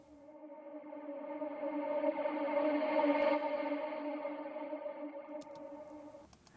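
A reversed vocal fragment drenched in reverb swells slowly in a music mix, a sustained harmonic wash rising to a peak midway, then fading and cut off with brief ticks at the end.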